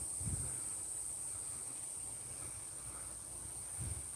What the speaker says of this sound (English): You may be able to hear the cicadas.